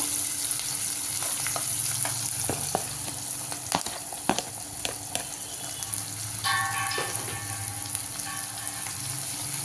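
Carrot and tomato sautéing in a pan for poha upma, a steady close sizzle broken by scattered clicks and taps of a spoon against the pan, no talking.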